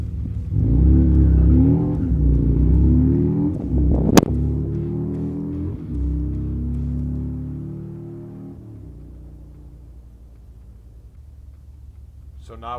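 Stock Harley-Davidson 114 Street Glide launching hard with its rear tire spinning: a loud, deep engine roar that fades over several seconds as the bike pulls away, with a sharp crack partway through.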